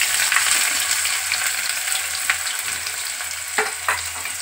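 Onion frying in a pan with cumin seeds and bay leaf for a cabbage dish, a steady loud hiss of sizzling oil with a few faint scrapes and clinks of stirring, close up and without speech.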